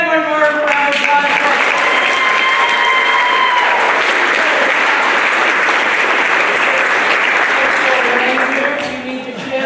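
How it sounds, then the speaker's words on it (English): A large crowd at a spring school band concert claps steadily for several seconds, loud and sustained, with some cheering mixed in before it tapers off at the end. "Give them one more round of applause."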